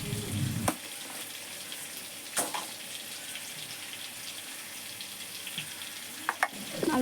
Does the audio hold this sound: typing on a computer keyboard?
no